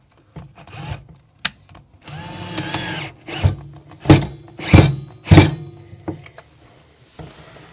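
Power drill driving a screw into the back pre-drilled hole of a Rev-A-Shelf mixer lift mechanism inside a face-frame cabinet, close and loud, with short whirring bursts, a longer run and several heavy thunks between them.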